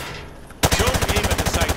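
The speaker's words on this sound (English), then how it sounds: "Grab that weapon off the table and fire at the targets behind you." An automatic weapon fires at targets in the Modern Warfare 2 video game, a sudden rapid burst of about a dozen loud, evenly spaced shots after a brief moment of ambient hiss.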